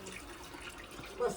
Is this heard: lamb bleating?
no